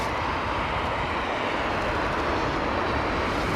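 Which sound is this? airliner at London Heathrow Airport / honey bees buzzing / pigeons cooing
airliner at London Heathrow Airport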